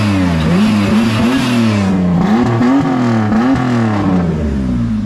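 A race car engine with a full exhaust revving up and down repeatedly, close and loud, the pitch rising and falling in quick blips.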